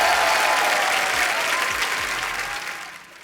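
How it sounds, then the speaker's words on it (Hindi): A studio audience gives loud, sustained applause to welcome two guests on a comedy talk show, the dense clapping steady for most of the clip before thinning out near the end. "जोरदार तालियां राजकुमार और श्रुति के लिए"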